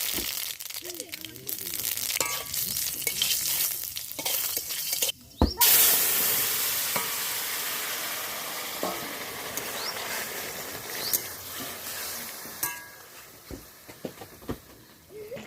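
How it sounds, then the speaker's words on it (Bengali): Hot oil sizzles in a pan as tempering is added to a fish curry of bata fish and fenugreek greens, with stirring and crinkly frying noise and a sudden loud burst partway through that slowly settles. "সম্বরা দেওয়ার জন্য তেল দিয়ে দিচ্ছি।"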